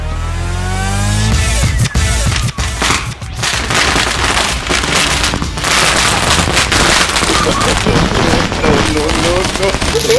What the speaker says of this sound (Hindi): इस बार ये पटाखा चलाएंगे उसके बाहर। ये बहुत ही स्पेशल पटाखा है,